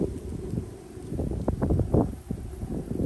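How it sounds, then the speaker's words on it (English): Strong gusting wind outdoors on a ranch beside a rocket stove, rumbling buffets against the microphone rising and falling for a few seconds. "it's so windy out here"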